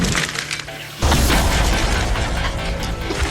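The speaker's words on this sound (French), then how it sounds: "À première vue, l'explosion ne présage rien de bon pour les potentiels survivants." An explosion set off in a test goes off with a sudden loud blast about a second in, followed by a sustained roaring rumble and debris noise.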